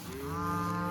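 A single cow moos nearby in a pasture of eastern gamagrass, one clear sustained low call that rises and holds.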